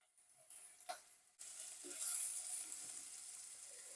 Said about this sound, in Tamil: இப்போ இந்த பீட்ரூட் அண்ட் வெங்காயம் எல்லாம் நல்லா கொஞ்சம் ஆயிலில் ஒரு 1 மினிட் வதங்கி வரட்டும்.